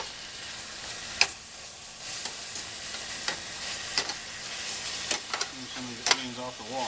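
Onions frying in a pan alongside sirloin steak give a steady close sizzle, broken by sharp clicks and scrapes as they are stirred, with a brief bubbling at the end.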